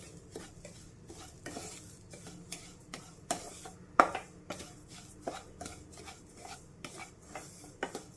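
Semolina and grated coconut roasting in a pan, stirred with a utensil that scrapes and taps the pan in repeated short strokes, close and fairly quiet over a faint sizzle.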